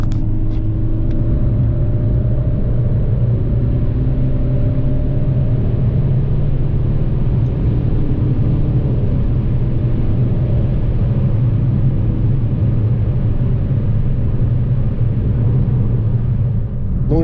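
A Fiat 500 drives along held in third gear, its engine humming in a steady, loud, close drone with smooth road rumble and no pauses, heard alone without talk.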